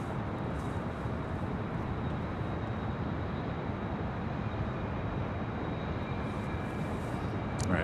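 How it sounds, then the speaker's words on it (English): Steady, broad roar of a jet airliner such as a 747 arriving at LAX, a continuous loud rumble and hiss holding even for several seconds with no talk. "we do have that 747 about to arrive on the south side"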